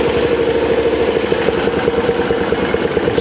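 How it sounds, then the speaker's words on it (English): A Kawasaki KX dirt bike engine idles very low and steady, a close, loud, continuous rumble with a faint knocking pulse and no talking over it. "It's really low idle."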